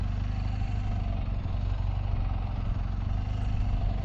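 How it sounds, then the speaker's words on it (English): A motorcycle engine idles steadily with only the throttle in use and no clutch, a close, even low rumble with a regular pulsing beat and no talk over it. "hand off the clutch, throttle only. So I'm pretty much just idling."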